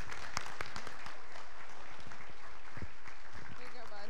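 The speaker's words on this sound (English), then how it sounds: "Give them one more round of applause." Church congregation applauding graduates at a community church service, broad clapping with sharp individual claps standing out, mixed with voices and a few higher tones near the end.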